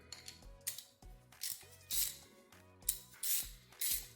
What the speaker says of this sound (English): Next, I'm going to pull out my 5/8" socket with a 3/8" drive ratchet